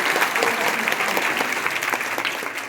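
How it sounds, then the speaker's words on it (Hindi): A crowd at a girls' intermediate college event claps in steady, dense applause that stays loud for the whole stretch. "जोरदार तालियां बच्चों के लिए"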